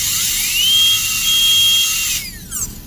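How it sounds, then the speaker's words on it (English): A dental drill burr cutting a Class II amalgam cavity preparation, a loud high-pitched whine that ramps up, holds steady, then winds down and briefly restarts, close and without talk. "So you need to really make sure that you are orienting the burr in the right way."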